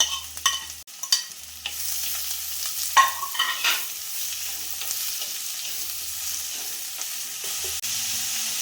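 Chopped snake gourd, onion and curry leaves stir-fry in a pan for a Kerala thoran, giving a steady faint sizzle with intermittent stirring clatters and scrapes and a low hum underneath.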